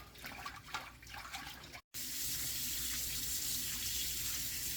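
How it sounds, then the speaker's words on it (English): Tap water runs and splashes steadily over beef bones in a pot, briefly cutting out before a stronger, even stream resumes. "Just running them under clean water."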